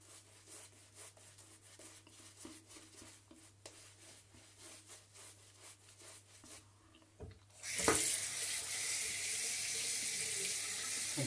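Water runs from a tap to lather a shaving brush loaded with Tcheon Fung Sing Hercules soap, starting after some quiet rubbing and holding as a steady, fairly loud stream to the end.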